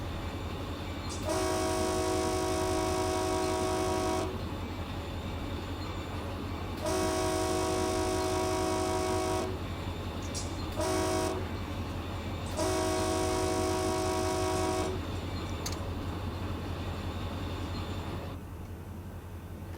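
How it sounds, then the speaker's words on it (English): A BNSF locomotive horn in Run8 Train Simulator V3 sounds in a long-long-short-long pattern of loud, steady chord blasts over a constant low engine rumble, with no voices. "I don't like how quiet the horn is."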